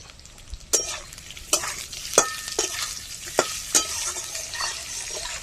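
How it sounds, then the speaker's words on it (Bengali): Spiced pointed gourd fries in a pan with turmeric while a utensil stirs it, giving a steady sizzle broken by a handful of sharp scraping strokes, close and clear with no talking. "মশলা পটল কষিয়ে নিচ্ছি ভালো করে"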